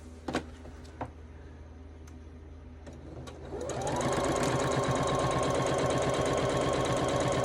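A sewing machine stitching quilt pieces: a few faint clicks and taps at first, then the motor starts and runs at a steady, loud, rapid whir to the end.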